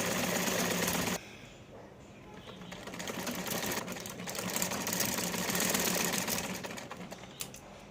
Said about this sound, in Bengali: দেখছেন সুতা সুন্দর করে ভরছি।